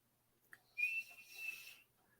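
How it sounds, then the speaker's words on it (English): A single thin, high whistle sounds for about a second, faint and somewhat distant, preceded by a brief click in an otherwise quiet room. "I just heard a whistle go on."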